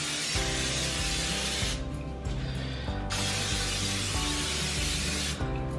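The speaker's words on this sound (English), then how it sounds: "I'm going to spray both of the sheet pans so that way the cookies don't stick to them." Vegetable oil cooking spray hissing onto baking sheet pans: a loud, steady, close aerosol spray running almost without break, with short pauses and slight changes in tone as the can moves.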